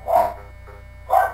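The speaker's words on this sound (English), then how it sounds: "that's my dog barking." A dog gives two sharp barks about a second apart, close and fairly loud, against a low steady hum.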